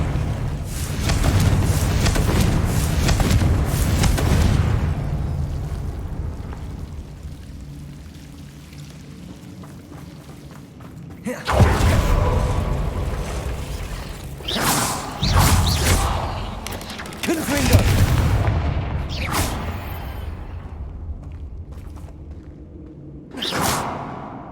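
Confringo spell explosions in Hogwarts Legacy: a long rumbling roar at first, then a quieter stretch, followed by several sharp whooshing blasts and thuds spaced a few seconds apart, with a final burst near the end.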